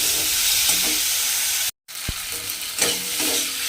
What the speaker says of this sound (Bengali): এবারে কিন্তু ভালোভাবে এই টমেটোর সঙ্গে আলুটা একটু কষিয়ে নিতে হবে